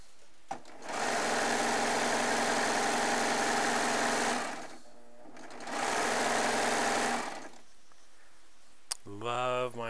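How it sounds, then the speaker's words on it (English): A Baby Lock sewing and serging machine runs in two sustained bursts, a steady loud mechanical whir with a pause between them. A voice speaks briefly at the end. "Especially when I'm in front of my baby lock sewing and serging quilting machines"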